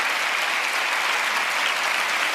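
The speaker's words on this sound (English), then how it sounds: "Please, round of applause for Koa Beck, author of White Feminism." Dense, even applause from the audience at a feminism talks event, a continuous wash of many hands clapping with no voices heard.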